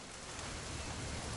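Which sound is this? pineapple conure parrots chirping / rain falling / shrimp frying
rain falling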